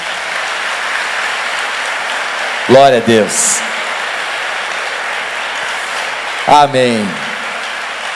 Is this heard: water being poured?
no